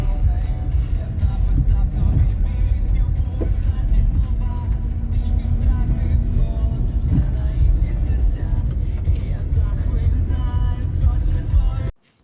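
A car drives home from the fields with a continuous loud engine and road rumble that holds steady, then cuts off abruptly at the end.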